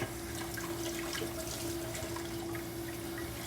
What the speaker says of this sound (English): I'm about to let this pan soak.